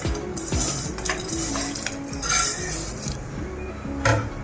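A spoon stirs aval payasam in a metal pot, scraping and clinking against the sides in repeated close strokes, with a faint simmering hiss underneath.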